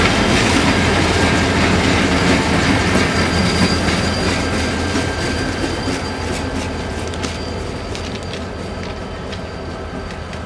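IC freight train shoving back into Kirk yard after doubling its cars, a steady rumble of rolling cars with clickety-clack and faint wheel squeal, loud and close throughout, slowly easing off toward the end.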